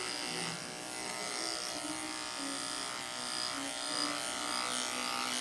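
Electric hair clippers buzz continuously while tapering a haircut for waves, a close, steady hum with slight shifts as the blade moves through the hair.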